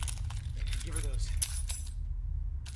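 Keys jangle and clink in a horror video game set at a camp, a bright metallic rattling heard close over a low rumbling background with voices present.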